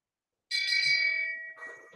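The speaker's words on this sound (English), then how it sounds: "Where's my bell?" A single bell rings out clearly from near silence, its bright, sustained tone lingering and fading over about a second, with a faint low thump and a brief rustle or murmur following.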